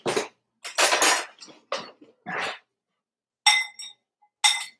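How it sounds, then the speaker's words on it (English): Garlic powder, seasonings and oil are stirred in a bowl, heard as short, irregular bursts of scraping and light clinking separated by silent gaps. "Then we're going to stir that up."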